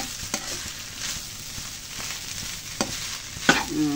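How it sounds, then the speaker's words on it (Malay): A spatula scrapes and stirs fried rice in a hot pan, with a steady sizzle underneath and a few louder clanks near the end. "kita kacau-kacau dia sampai dia lama sikit dah. Gaul sebati"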